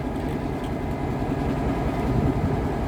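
A steady, deep diesel engine rumble from a 2,000-horsepower locomotive, droning evenly and fairly close with no voices.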